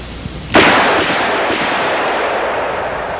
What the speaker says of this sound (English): here's a full charge 44 Magnum. We're going to shoot several times here